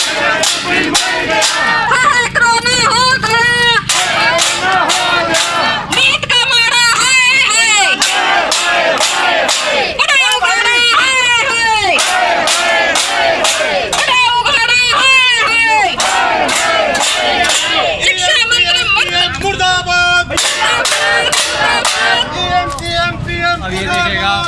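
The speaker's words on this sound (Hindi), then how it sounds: "मुर्दाबाद के नारे लगाते हुए यहाँ पर उन्होंने पुतला फूंक दिया" Protesters on a teachers' sit-in shout slogans together while burning an effigy of the education minister, a loud, dense crowd roar of chanting voices rising and falling in bursts throughout, with wind buffeting the microphone.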